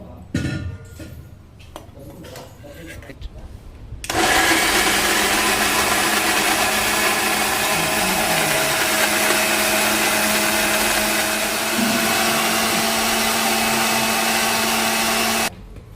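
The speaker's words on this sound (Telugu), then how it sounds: "కట్ చేసి పెట్టుకున్న ముక్కలు ఇందులో వేసుకొని మిక్సీ చేసుకోవాలి" A mixer grinder blends chopped tomato pieces into a smooth paste for egg biryani, starting abruptly after a few quiet seconds and running as a loud, steady whirring roar for about eleven seconds before cutting off.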